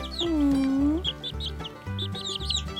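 A young chick peeping: a long, drawn-out tonal call comes first, then bursts of quick, high, thin chirps close by, over a low background hum.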